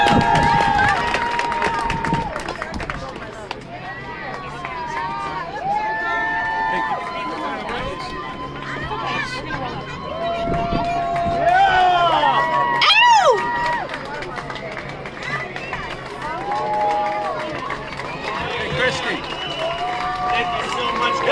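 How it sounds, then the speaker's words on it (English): Outdoor crowd at an end-the-lockdown protest rally in Toronto, applause and cheering swelling under someone talking through a loudspeaker, with whistles and shouts rising midway. "big round of applause for everybody here"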